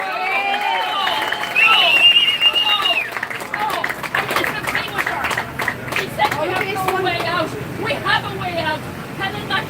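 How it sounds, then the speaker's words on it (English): Crowd at an outdoor rally outside the GPO breaks into applause, scattered clapping rising over a bed of voices and general hubbub, fairly loud and sustained throughout. "Give them a big round of applause, everybody"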